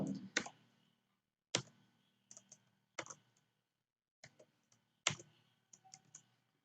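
Sparse, quiet clicks and a few short bursts of keyboard typing, close by, with gaps of silence between them.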